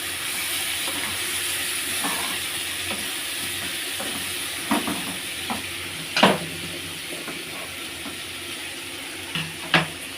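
Kashmiri chilli powder being stirred into a sizzling pan of potol (pointed gourd) and shrimp, with a steady frying hiss and a few sharp spoon scrapes against the pan, close by and without talk.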